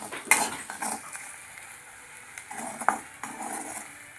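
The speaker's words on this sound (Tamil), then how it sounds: "இப்போ இதை நல்லா வதக்கி விட்டுக்கலாம்." Grated ginger and green chillies being sautéed in a pan, with a soft sizzle under a few bright metallic clinks and scrapes of a spatula at close range and no speech.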